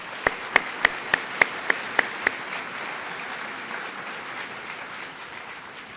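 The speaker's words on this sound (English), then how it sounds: "Give yourselves a round of applause." Audience applause at an awards and honors ceremony, with a run of about nine sharp, evenly spaced claps close by over a broad, steady wash of clapping from the hall that slowly fades.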